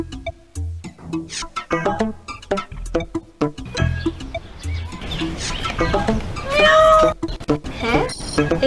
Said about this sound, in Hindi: बिल्ली की आवाज कैसी है?